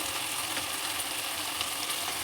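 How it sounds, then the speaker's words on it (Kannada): Avarekalu upma ingredients fry in a pan, giving a steady, close and even sizzle with no pauses and no voices over it. "ಸ್ವಲ್ಪ ಅದಕ್ಕೆ ಫ್ರೈ ಆಗಲಿ"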